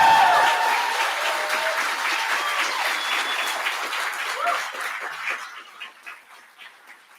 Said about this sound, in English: let's also please give a huge, huge, huge round of applause to the facilitators, the staff, and the youth who made this week happen